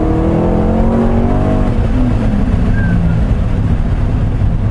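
Corvette C6 Grand Sport engine and exhaust rumbling and revving, a loud, deep, steady roar with rising pitch early on, close by and filling the whole stretch without talk.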